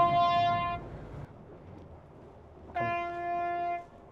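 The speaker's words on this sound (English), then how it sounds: "That's the sound of a red jet telling a Wellcraft to get out of the channel." A Red Jet ferry sounds its horn in a channel near a Wellcraft boat: two long, loud harmonic blasts, the first around a second, the second a bit longer after a short pause, over engine and water rumble.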